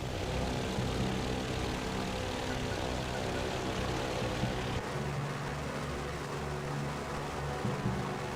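Low, steady drone of a Ki-84 fighter's engine idling before takeoff in the IL-2 1946 flight sim, a continuous rumble with a slight shift in tone partway through and no talk.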